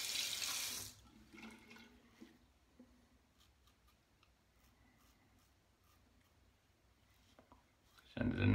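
Tap water running into a sink to rinse a Vikings Blade Chieftain safety razor during a shave, heard as loud bursts of gushing water at the start and end with quieter clinks and handling sounds between them.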